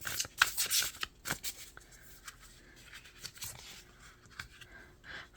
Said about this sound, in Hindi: मैं इस डेक के आखिरी कार्ड एक और निकालूंगी